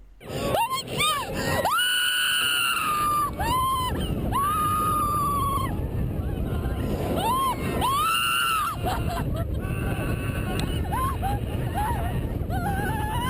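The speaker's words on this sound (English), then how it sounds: "I have never heard 4 people scream so much in my entire life" Loud, sustained screaming from four roller coaster riders on Skyrush at Hersheypark, rising in long high wails and overlapping yells over a roaring rush of wind and motion.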